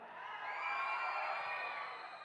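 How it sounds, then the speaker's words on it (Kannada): A crowd of fans at a film function whistling, clapping and cheering in a dense, continuous roar with sustained high whistles, loud and steady throughout. "ಈ ವಿಸಲ್ಲು ಚಪ್ಪಾಳೆ ಈ ಕೇಕೆ ಇಲ್ಲ ಅಂದರೆ ಯಾವ ಫಂಕ್ಷನ್ನೇ ಅಲ್ಲ"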